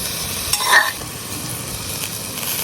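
Onion, ginger-garlic and cumin paste stirred in a hot pan: a steady sizzle with a short, bright scrape and clatter of the spoon early on, then continued frying.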